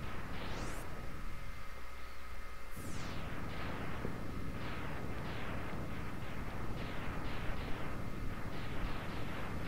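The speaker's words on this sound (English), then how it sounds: "I always say, you just have to love those Super Nintendo explosions." Super Nintendo explosions from Mega Man X come as a rapid, steady string of small crackling bursts, with a couple of sweeping tones, all fairly faint over a constant hiss.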